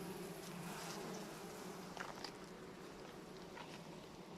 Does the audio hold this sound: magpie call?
no